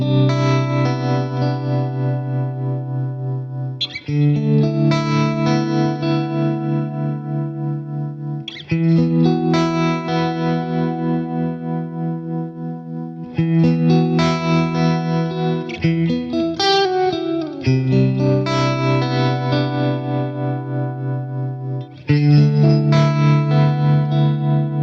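Electric guitar played through a Boss Katana Gen 3 amplifier on its pushed amp type, a Dumble-style, lightly broken-up tone. Sustained chords and melodic phrases ring out in several loud passages, each separated by brief breaks.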